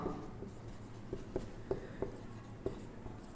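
Soft, scattered taps and strokes of chalk or marker writing on a board during a maths lesson, quiet and irregular against a faint room hum.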